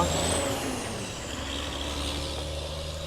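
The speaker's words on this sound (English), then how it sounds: "A few trucks around, as you can hear." Trucks pass on the road outside with a low engine rumble and a sharp hiss of air brakes, heard at moderate distance over steady traffic noise without talk.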